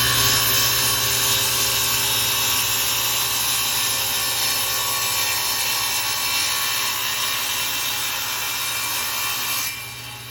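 A saw cuts through aluminum held in a woodworking sled, a steady loud whining grind that runs unbroken for about ten seconds, then drops off sharply near the end.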